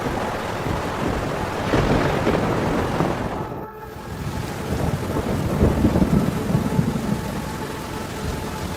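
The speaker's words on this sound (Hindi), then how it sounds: "7 दिनों के बाद वर्षा शुरू हो गई" Heavy rain and thunder in a storm scene, a dense steady downpour with rolling rumbles that swell and ease briefly before the torrent builds again, loud and continuous with no voices.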